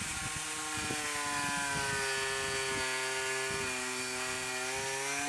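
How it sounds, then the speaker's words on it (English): Power drill boring into a boat hull during a DIY refit, checking for voids around the bow roller; a whining motor with harmonic tones dips and recovers as the bit bites, close and steady, with no voices. "I'm going to get on now with some drilling to check for voids"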